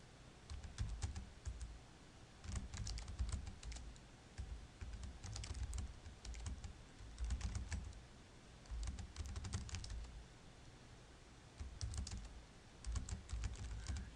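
Steady typing on a computer keyboard, with soft, quick clusters of keystrokes broken by short pauses, heard close and fairly quiet with no talking.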